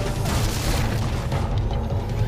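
A big grenade explodes in the video game Shadow Complex, a dense, booming blast with rumbling low end that carries steadily through the whole stretch.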